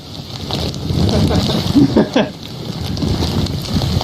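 Cold wind roars and buffets the microphone in a constant low rumble, with a voice briefly audible in the gusts.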